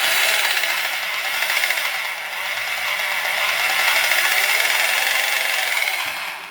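A Harbor Freight Bauer 1-inch SDS D-handle rotary hammer runs continuously and loudly close by, a dense mechanical whine with rattling gear noise that holds steady throughout.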